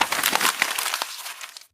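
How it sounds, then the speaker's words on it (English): Paper being crumpled as a sound effect makes a short, dense crackling rustle, loud and close, that fades out after under two seconds. "crumpled paper,"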